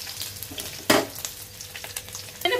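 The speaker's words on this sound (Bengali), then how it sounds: "তারপর আরেক ধাপও ভেজে নিব।" Koi fish fry in hot oil in a pan with a continuous crackling sizzle, punctuated by a sharp stirring scrape near the start and another toward the end, close and alone.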